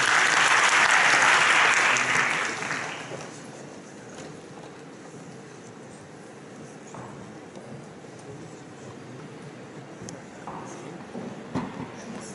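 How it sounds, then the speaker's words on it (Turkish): An audience at a Turkish religion and violence symposium in Rize applauds loudly for about three seconds, then the clapping fades into quiet room murmur and faint rustling. "Alkışlarınızla."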